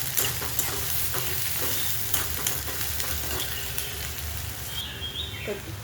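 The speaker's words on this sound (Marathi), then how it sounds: "इथे घेतलेले बारीक चिरून कांदा तो पण टाकून घेऊया. एक जीव करूया." Finely chopped onion hits hot oil in a frying pan and gets stirred, giving a steady sizzle broken by scraping strokes of a spoon, close and continuous, with a brief higher squeak near the end.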